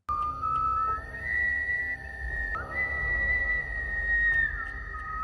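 Villagers whistle at night, long sustained tones that glide up and hold, with a second whistle overlapping and breaking off, over a faint low rumble.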